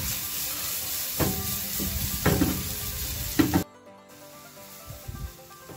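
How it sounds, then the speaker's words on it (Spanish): Mushrooms and diced pepper sauté in a little oil in a pan, giving a steady close sizzle broken by several scraping stirs, before the hiss drops to a faint simmer near the end. "tenemos los champiñones y los saltaremos en un poco de aceite"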